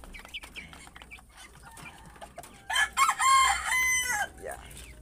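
Backyard chickens clucking softly, then a rooster crows loudly and close by in one long, drawn-out call, with faint talk in the background.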